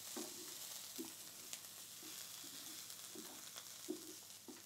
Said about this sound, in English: I'm stirring